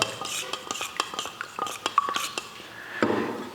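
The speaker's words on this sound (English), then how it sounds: "Let me just hit it with the stirring stick real quick to make sure that it's really mixed up." A stirring stick mixing a wood finish in a container, quick scraping and knocking strokes in an uneven rhythm, close and fairly loud, with a heavier clunk near the end.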